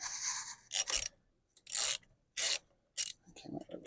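Bolts being worked loose on a BMW R1100R motorcycle during a valve adjustment, heard as several close, short rasping ratchet bursts separated by brief pauses, with no talk.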